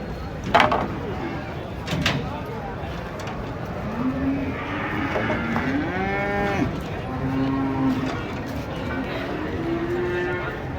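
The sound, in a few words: cattle mooing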